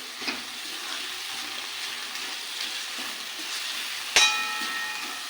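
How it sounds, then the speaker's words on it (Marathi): Fenugreek leaves sizzle steadily in a hot pan, with a soft, continuous frying hiss and one sharper clink of a utensil near the end. "यामध्ये मी मेथी टाकून घेते"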